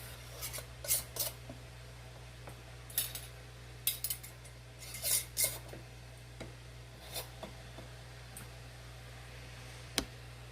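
Metal canning rings being screwed finger-tight onto jar lids before pressure canning sweet potatoes: faint, scattered scraping and clinking taps over a low steady hum, close and quiet.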